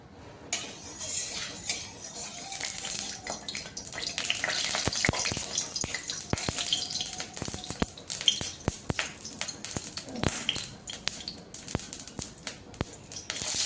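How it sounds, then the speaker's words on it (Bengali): Rohu fish heads fry in hot mustard oil in a wok, a continuous crackling sizzle dotted with sharp pops and occasional utensil clinks, close and fairly loud throughout. "এবার কড়াইতে দিয়ে দিচ্ছি সর্ষে তেল মাছের মাথাগুলো ভেজে নেওয়ার জন্য"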